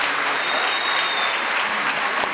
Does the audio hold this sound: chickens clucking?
no